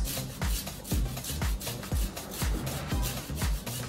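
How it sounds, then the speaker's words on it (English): Lime zest rasped off on a fine rasp zester for a cream sauce for seared scallops, heard as about eight steady, evenly spaced scraping strokes, close and moderately loud, with no voices. "I have lime today, so that's what I'm zesting in."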